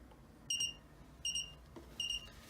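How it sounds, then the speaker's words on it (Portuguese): An Arduino water sensor alarm emits three short, shrill electronic beeps at even intervals, each a bright clipped tone over a quiet background hum. "ele vai trigar o nosso alarme"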